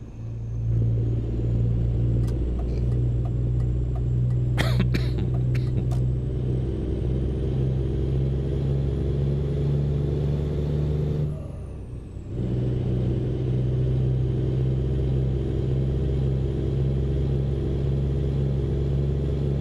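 A truck engine with an open exhaust pipe in Euro Truck Simulator 2 drones loudly and steadily throughout, a deep rumbling idle-to-cruise tone that briefly dips and drops out near the middle before resuming at full strength.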